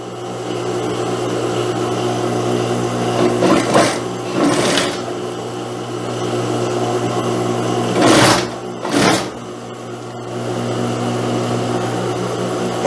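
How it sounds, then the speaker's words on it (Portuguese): A sewing machine runs loud and steady, closing the crotch seam of pantacourt trousers, a continuous whirring hum broken by a few brief louder surges of handling noise. "vamos passar a nossa costura aqui fechando o gancho"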